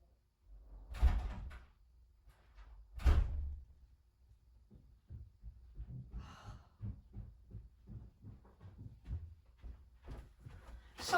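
A door thuds twice near the start of a parcel collection by a UPS courier, followed by quiet footsteps, shuffling and breathing-like household noises at a moderate distance.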